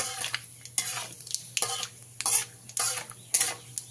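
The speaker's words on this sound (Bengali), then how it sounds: "হালকা একটু ভাজা ভাজা করে নিতে হবে।" Nigella seeds and a torn bay leaf frying in mustard oil in a pan, a soft continuous sizzle broken by repeated scraping knocks of a stirring spoon, close and alone.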